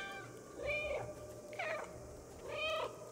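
Three separate cat meows, clear and close, come from the video game Stray, spaced about a second apart over a low background hum.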